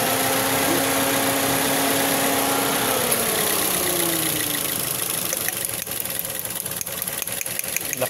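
A 2016 third-generation Toyota Vios engine idles roughly with a persistent misfire despite cleaned spark plugs, a close, uneven rumble with stumbling pulses and a droning tone that shifts pitch partway through.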